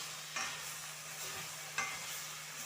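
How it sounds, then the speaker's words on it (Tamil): Chicken pizza topping sautés in a pan with a soft, even sizzle, broken twice by brief scraping stirs of a spoon, close and quiet with no talk. "இது மிச்சம் வதங்க தேவையில்ல ஒரு அஞ்சு நிமிஷம் வதங்கிட்டுருந்தா போதும்"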